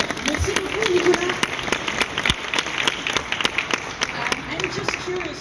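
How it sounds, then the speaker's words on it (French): An audience applauds at an innovation awards ceremony, a steady patter of many hands clapping under a voice speaking over the crowd. "et on l'applaudit encore"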